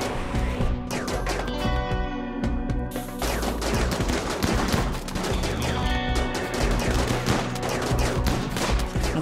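Dense, rapid bursts of gunfire from a RimWorld battle keep up almost without pause, a mix of overlapping shots and quick automatic volleys at a steady, loud level, with no talking over them.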